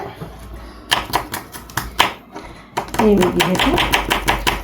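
Garlic being chopped with a knife on a board, a series of sharp close taps that start sparse and then speed into a quick, dense run of cuts, loud and clear with no voice over them.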